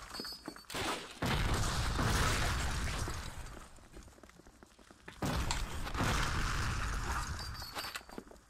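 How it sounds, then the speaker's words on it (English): Grenade explosions boom and crackle in the World War II shooter game Call of Duty: Finest Hour, with two heavy blasts each trailing off into a long rumbling decay and distant battle noise between them. "Enough of the goddamn grenades!"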